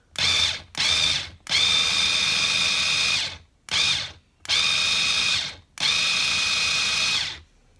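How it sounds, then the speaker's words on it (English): Cordless food processor pulsing cranberry jalapeno salsa with sugar: six loud, close whirring motor bursts of uneven length, starting and stopping sharply with brief pauses between. "now let's pulse it again with the sugar"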